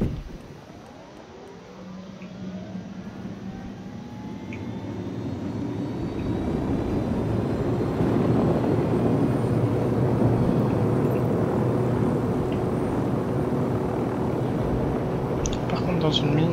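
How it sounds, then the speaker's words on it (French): A helicopter arrives in the tactical shooter Ghost Recon Wildlands, its engine and rotor roar swelling from faint to a loud, steady drone that holds to the end, with someone talking over it. "Ah, pour une fois l'hélicoptère."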